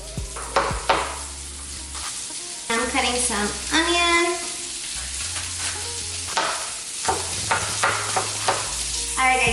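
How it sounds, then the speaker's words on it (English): Chicken fries in a pan with steady crackling sizzle, and stirring and utensil clatter rise and fall over it. A person talks throughout. "As you can hear, my chicken is getting crispy, it's sizzling"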